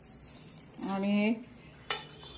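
A spoon scrapes and clinks against a bowl while mixing flour with hot oil for a dough, a short metallic stroke with a ringing tone followed by a single sharp clink, quiet and close.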